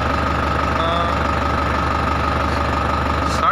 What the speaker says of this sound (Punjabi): ਬਾਕੀ ਹੁਣ ਤੁਹਾਨੂੰ ਆਪਾਂ ਇਹਦੀਆਂ ਰੇਸਾਂ ਮਾਰ ਕੇ ਦਿਖਾਉਣੇ ਹਾਂ